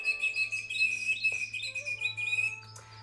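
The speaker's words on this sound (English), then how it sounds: "And the princess sat and she heard the birds singing." Small birds sing in a bright, close chorus of rapid chirps and trilling whistles, overlapping calls continuing steadily for about three seconds over a faint low hum, as in a bedtime story sound effect.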